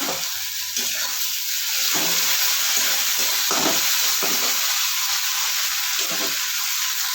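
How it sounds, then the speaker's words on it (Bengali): Poppy seed paste is stirred into a duck egg curry frying in a pan, making a loud, continuous sizzle and hiss with scraping stirring strokes, and no voices. "এবার আমি এর মধ্যে দিয়ে দিচ্ছি পোস্ত পুরোটাই দিয়ে দেবো।"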